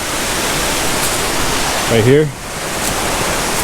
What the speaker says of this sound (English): Pretty cool little waterfall here off the trail.